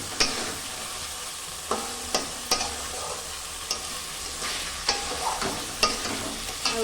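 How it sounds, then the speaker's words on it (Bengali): Eggs are stir-fried with spice masala in a pan: a spatula scrapes and stirs in an irregular rhythm of sharp, close strokes over a soft, constant sizzle, with no talking. "এটাকে এখন ভালো করে কষাতে হবে অনেকক্ষণ ধরে।"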